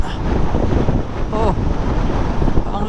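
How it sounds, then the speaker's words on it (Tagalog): Strong wind buffets the microphone in a steady, loud roar while riding a Voge 525RR motorcycle in the mountains, with a brief faint voice-like tone partway through. "Ang lakas ng hangin"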